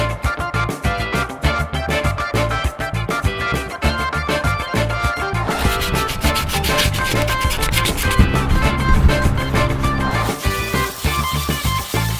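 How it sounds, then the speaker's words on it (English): Sanding parts of a Fiamma Vent 50 RV roof hatch, a loud, close, continuous rasping rub with rapid back-and-forth strokes that shift in pitch partway through, heard alone. "We had to sand them a little bit just for better grip."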